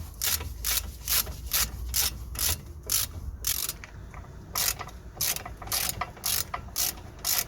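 Ratchet clicks sharply as it undoes a brake caliper pin on a Vauxhall Astra, quick repeated bursts of close, loud clicking with brief pauses between strokes.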